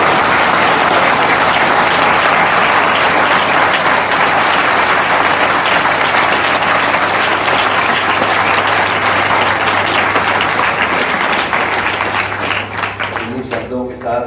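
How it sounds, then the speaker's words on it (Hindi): Loud sustained applause from a large audience at a Merchant Chamber of UP event, dense and continuous for most of the clip before thinning out into scattered claps at the end. "जोरदार तालियां बजाएं, जिससे वो गूंजती रहें जब सर अपने घर वापस भी चले जाएं"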